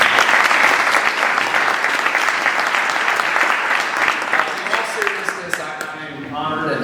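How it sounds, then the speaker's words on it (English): Applause from the audience at an awards ceremony, loud and sustained dense clapping that carries on for several seconds and softens slightly toward the end. "So please give her a round of applause."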